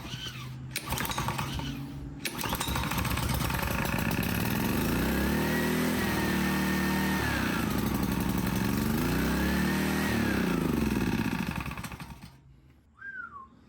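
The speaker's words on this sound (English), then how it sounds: "And now let's turn it on." A reassembled Honda GCV160 small engine sputters to life and runs steadily at a loud, even idle, its pitch rising and falling slightly before it cuts off abruptly near the end.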